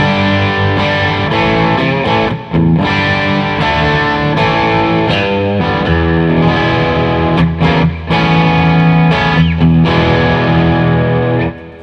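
An electric guitar amp and speaker cabinet miked by an AKG condenser microphone plays a loud, distorted, effects-laden passage of sustained chords and riffs, close and full, with a few brief breaks and no voices.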